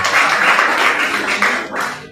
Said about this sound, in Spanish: Ahí está un aplauso a la hermana.